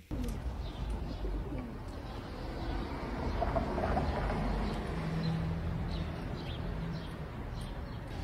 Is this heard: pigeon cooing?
yes